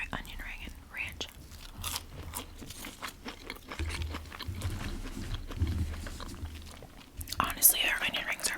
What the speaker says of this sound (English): Let's try onion ring and ranch.